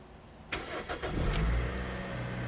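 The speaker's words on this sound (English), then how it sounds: "I'll just start the engine for you." A 7th-generation Toyota Celica is started up close: a short starter crank, then the engine catches with a rising rev and settles into a smooth, even idle, with no voices.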